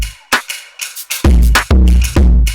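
A clipper distortion module on a music plugin crushing punchy drum-like hits into hard, flattened bursts, loud and close, building from sparse transients to dense saturated chords.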